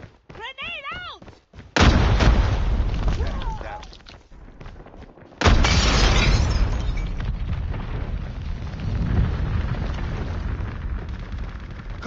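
Grenade blast in a tactical shooter video game ranked match, a loud broadband boom erupting suddenly, then after a lull a second heavy explosion with a long rumbling tail of gunfire-like noise, with a brief tonal game cue at the start.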